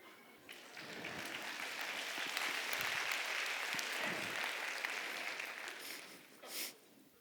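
An audience at a talk on animal minds breaks into applause that swells, holds steady for several seconds, then fades out with a brief final flutter.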